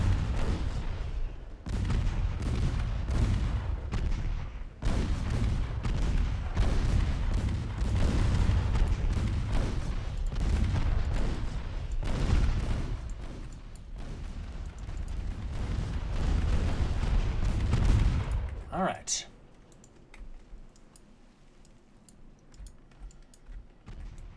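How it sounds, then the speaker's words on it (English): Battleship secondary guns firing in the naval game Ultimate Admiral Dreadnoughts, a dense run of booming shots and rumbling blasts that continues loudly for about eighteen seconds, then drops away to a quieter, thinner background. "secondaries. Please fire on the enemy light cruiser."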